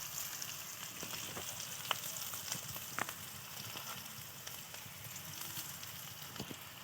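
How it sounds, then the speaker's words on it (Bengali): Chicken curry ingredients sizzle and crackle as they fry in a pan while being stirred, a steady close hiss with occasional sharper pops and clinks of the spoon. "একসঙ্গে ভালো করে নেড়েচেড়ে ভেজে নিয়ে এবার দেখো হলুদ দিয়ে দিলাম"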